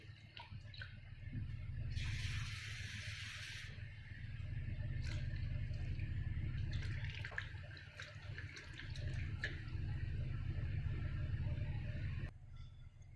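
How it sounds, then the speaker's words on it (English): Poha (flattened rice) is rinsed in water for a dosa batter, giving a steady close splashing and trickling wash with a brief louder hiss of running water early on, and no talk. "So we are going to wash the poha"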